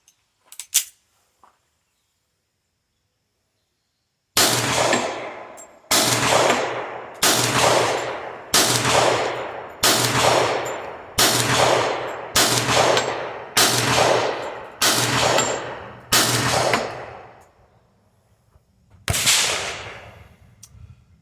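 Rapid sequence of about eleven loud, sharp pistol gunshots firing Everglades ammunition from a magazine, evenly spaced with short echoing decays, one shot set apart after a pause; a few faint clicks precede them.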